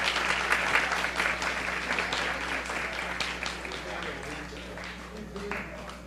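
Applause for students at a school board meeting, a sustained round of many hands clapping, moderately loud, gradually thinning toward the end, with a steady electrical hum beneath and some voices mixed in.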